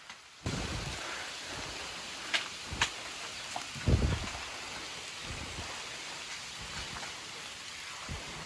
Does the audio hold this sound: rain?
yes